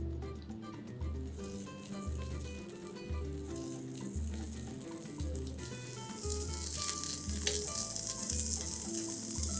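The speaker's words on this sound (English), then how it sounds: "whilst the oil is just kind of beginning to heat up, let's place the brinjals gashed side down" Gashed eggplant halves sizzle in hot coconut oil for a Sri Lankan curry, a steady crackling fry that grows louder and brighter after a few seconds, set against a rhythmic low background beat.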